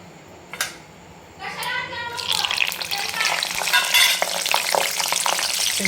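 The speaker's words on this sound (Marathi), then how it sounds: "त्याच्या अगोदर हे आपण हिरवी मिरची आपण तळून घेणार आहे." Green chilies drop into hot oil after a few handling knocks, and a loud, close sizzle swells and keeps crackling steadily to the end, with faint voices in the background.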